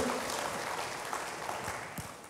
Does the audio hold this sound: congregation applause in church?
yes